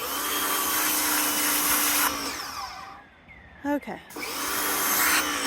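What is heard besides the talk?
pressure washer stripping paint off chairs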